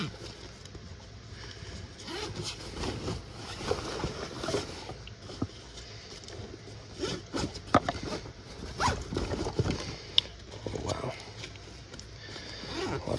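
Backpack zippers from an abandoned storage unit are pulled open in repeated quick rasps, mixed with rustling and handling of the bag, and a voice speaks at times over the sounds.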